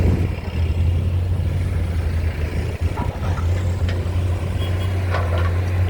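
A Komatsu SAA6D107E diesel engine in an excavator runs steadily during road-widening earthwork, a loud, continuous low rumble with a constant hum that holds an even pitch throughout.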